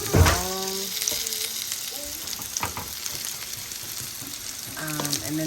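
Potatoes fry in a new pan on a stovetop with a close, steady sizzle and crackle. Scattered clinks and tonal scrapes from stirring are mixed in, and a faint voice sits under it.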